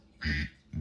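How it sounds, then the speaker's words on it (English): A duck quack rings out from a Playskool Alphie robot toy: one clear, close electronic quack, with the start of a second sound cut off at the end. "The mommy duck can't find her duckling."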